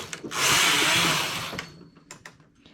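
A knitting machine carriage is drawn across the needle bed on a 140-stitch triangular neck scarf, one loud whirring pass lasting about a second, then a few sharp clicks and clacks.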